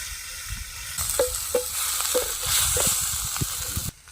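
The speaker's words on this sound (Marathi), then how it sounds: "तेल गरम झालंय तर पाट्यावर वाटून घेतलेलं वाटण वाटण चांगलं आपण एक दोन मिनटं परतून घेऊया तेलामध्ये" Ground spice paste, stone-ground, sautéing in hot oil for a village-style mixed vegetable khengat, giving a steady close sizzle with soft scraping stirs and a few short clinks throughout.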